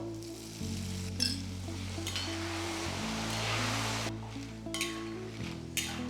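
Sliced raw banana frying in hot oil for banana chips while being stirred: a loud, steady sizzle with crisp rustling and scraping, plus a few sharp clinks as the slices are turned, with no voice.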